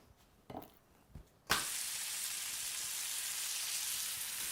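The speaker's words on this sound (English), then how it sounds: "I now realize that I threw that bacon in a skillet rather than a saucepan." Bacon slices land in a hot skillet after a couple of soft knocks, then break into a sudden loud, steady, crackling sizzle that continues close and unbroken to the end.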